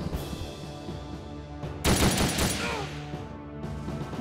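A burst of gunfire from an attack in the tactical game Ghost Recon Shadow Wars rings out loudly for about two seconds over quieter game sounds, with no talking.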